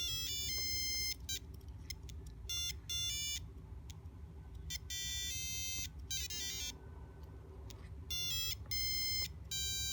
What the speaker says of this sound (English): So let's try this Empire Strikes Back theme song and play the game.